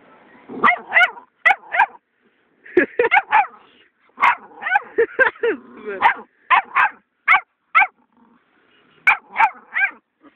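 A small dog barks in short, sharp bursts inside a car, several yips and barks in uneven clusters, close by and fairly loud with brief pauses between.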